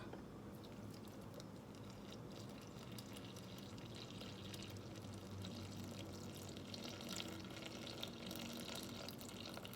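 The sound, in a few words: water being poured into a Thermomix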